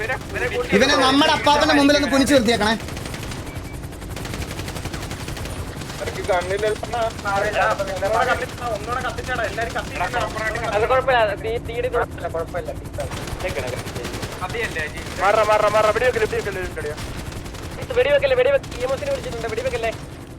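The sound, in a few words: gunfire in a video game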